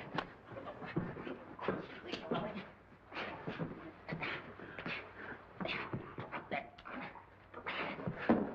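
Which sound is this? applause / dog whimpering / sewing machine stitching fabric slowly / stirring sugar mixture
dog whimpering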